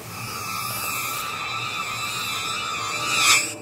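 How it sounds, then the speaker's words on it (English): A long ambient riser built on a minor second interval, a sustained, hazy wash of tones that slowly swells and brightens to a peak near the end before easing off, heard alone without voices. "now we're gonna do the minor second long ambient riser"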